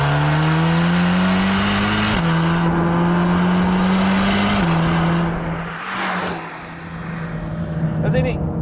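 A loud Mercedes-AMG GT sports car engine drones close by, its pitch climbing and then dropping at each gear shift before easing off near the end.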